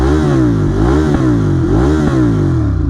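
Ducati Monster 821 twin-cylinder engine revving loud and close, with repeated rises and falls in pitch as the throttle is blipped, a rough lumpy idle between revs.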